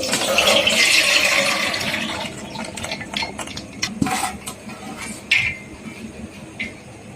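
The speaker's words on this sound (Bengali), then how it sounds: "এবারে এই ডালটা আমি এই জাজির মধ্যে ঢেলে নিচ্ছি জলটা ছেঁকে নেওয়ার জন্য।" Soaked lentils, softened with baking soda, are poured into a strainer in a home kitchen: a rushing splash of draining water for about two seconds, then scattered metallic clinks and taps of utensils and pots.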